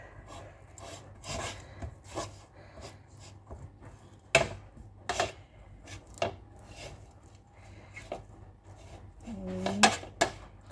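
Soft scrapes, rubs and light taps as bread for a pudding made from nearly expired loaves is placed into a buttered pan, close by and quiet with scattered irregular knocks.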